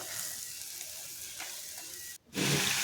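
Spiced fried potatoes stirred in a pan give a steady broadband sizzle, briefly dropping nearly silent before a louder frying burst returns close by.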